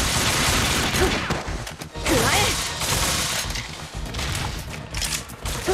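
Rapid gunfire and crashing impacts from the PS Vita video game Bullet Girls 2, a dense, loud barrage of shots with mechanical clatter filling the whole stretch, a faint voice briefly under it.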